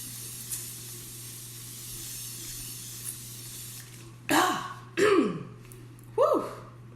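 Evian facial water spritzed from an aerosol can, three short bursts of close, hissing spray, each rising and fading quickly, with a steady low hum beneath.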